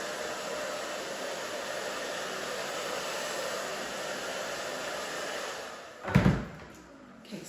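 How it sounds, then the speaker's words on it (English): A blow dryer drying short curly hair in a pixie cut hums steadily and close for about six seconds, then cuts off with a brief clunk. No talking is heard. "then I just like to come back around with my blow dryer, just make sure it's all dry"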